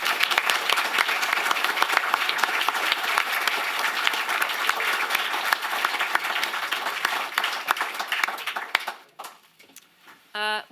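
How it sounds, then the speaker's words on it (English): Loud, sustained applause from a sizable audience at a 2023 wine festival talk, dense clapping for several seconds before it fades out and a voice begins near the end. "And perhaps another round of applause"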